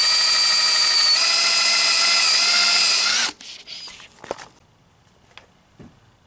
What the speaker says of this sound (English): our drill attachment on with our 800 grit sandpaper. This is going to cut through the headlight material the fastest since this is the 800 grit.